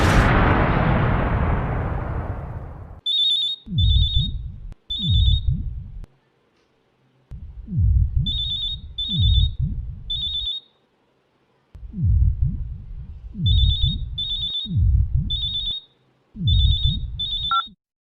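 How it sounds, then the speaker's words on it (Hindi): A telephone rings in loud, repeated bursts, several double rings separated by short gaps. Deep booming thuds accompany each ring in a tense paranormal drama setting, with no talking. "उस दिन जब फ़ोन की घंटी बजी"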